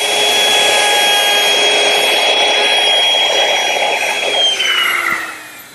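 A wood router cuts steadily into a table leg, running at a loud, even whine with a rough cutting roar throughout before the motor begins spinning down at the end.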